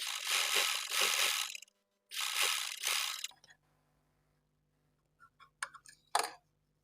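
A sewing machine with a presser foot stitches pintucks in cloth in two close, whirring runs, followed by near silence and a few faint clicks and taps.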